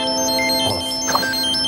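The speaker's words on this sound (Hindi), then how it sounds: "किसका फोन आ गया?" A mobile phone ringtone plays as a short tonal electronic melody with a few rising notes over a quiet background, lasting under two seconds.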